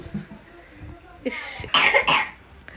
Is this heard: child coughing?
yes